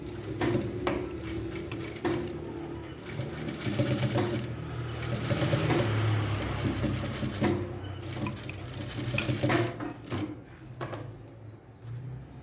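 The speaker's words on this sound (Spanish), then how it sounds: "vamos a pasarle otra costura más o menos al ancho de la patica del pie, como medio centímetro" A sewing machine stitches a seam about half a centimetre wide on a denim skirt, its motor whirring in bursts that speed up and pause, with small mechanical clicks in between.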